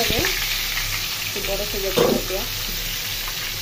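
Fish pieces frying in oil in a pan, a loud dense hiss and crackle running steadily throughout, with a few brief words spoken over it.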